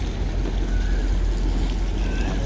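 Trawler boat engine rumbles steadily with low droning noise and broad wash, constant and moderately distant, no clear voices over it.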